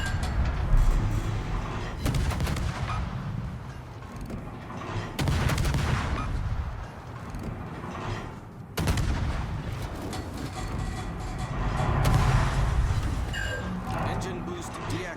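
Naval gunfire from a Gearing destroyer battle in World of Warships, with repeated heavy booming salvos every few seconds over a rumbling sea and engine bed, while someone talks throughout.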